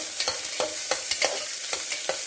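Mustard seeds crackle and pop in hot oil inside a pressure cooker while upma is made, a steady run of sharp close spluttering bursts with no talk.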